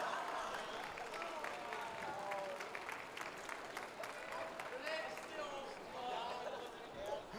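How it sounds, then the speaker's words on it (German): Crowd applause greeting the second-place team at a convention award ceremony on stage, a steady wash of clapping filling the whole stretch with loud voices and chatter over it. "Applaus, da sind sie."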